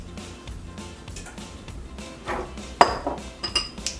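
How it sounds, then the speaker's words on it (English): Avocado bruschetta mixture seasoned with salt and pepper being mixed in a bowl: a utensil clinks and scrapes against the dish, with quiet rustling, then a sharp clink and several lighter taps toward the end. "Let's go ahead and season it a little bit and give it a quick mix."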